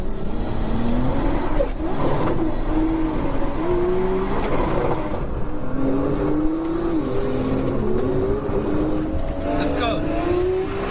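A Toyota Supra and a rival car accelerate hard from a rolling start near 50 mph, engines droning and rising in pitch through gear changes over about ten seconds, loud and close with a voice talking over them.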